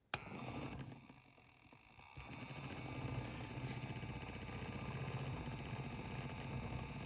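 A small Nano EEL electric spinning wheel motor runs with a steady, faint mechanical hum while fiber is spun. The unit is known to be problematic, and its hum rises slightly after a short quieter start.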